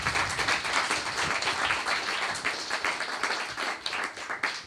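Crowd applause at an evening gathering on anti-fascism and undocumented migrants' struggles: sustained, dense clapping from many hands, fairly even in level throughout.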